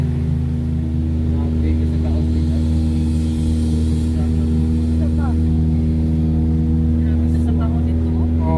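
A vehicle engine labours on a rough road between Balamban and Cebu City, a loud, steady low drone throughout with people talking over it.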